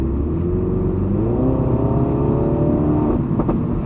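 A Mini Cooper S JCW fitted with a Cooper Works Pro exhaust gets a little throttle while cruising, producing a low, steady engine drone with a slight rise in pitch and a few small pops near the end, heard from inside the car.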